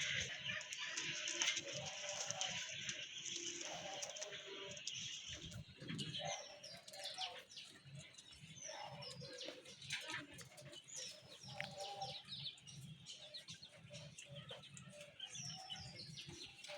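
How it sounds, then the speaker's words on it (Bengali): Pigeons in breeding condition coo repeatedly in a busy loft, their low throaty calls rising and falling alongside chirps and occasional wing flutters, fairly close and continuous. "এই যে দেখেন এখনো কিন্তু ব্রিডিং মুডে আছে কবুতরগুলো"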